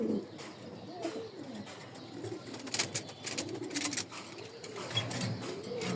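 Pigeons coo repeatedly in soft, rolling, looping calls, fairly faint and close, with scattered sharp clicks and flutters between them.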